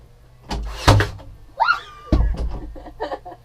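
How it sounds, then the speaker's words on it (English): A door in a converted Toyota Coaster bus is worked open with a few sharp thunks and clunks, a latch squeak and some rattling handling noises, close by. "The door opened!"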